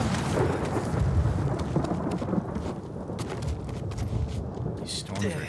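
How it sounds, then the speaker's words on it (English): A thunderstorm with heavy rain in the video game Ghost of Tsushima: a dense, constant roar of rainfall with deep rumbling thunder beneath, loud throughout and without pause. "These storms are intense."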